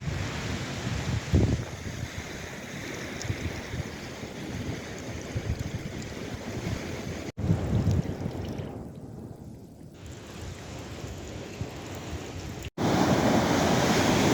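Sea waves washing onto the beach at Carbis Bay in Cornwall, a steady, loud roar of surf mixed with gusty wind buffeting the microphone, broken by a couple of abrupt cuts.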